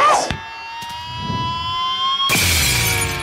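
Cartoon window glass smashing: a sharp crash near the start and a second loud burst of shattering glass later, with ringing tonal effects sustained between them in an animated football scene.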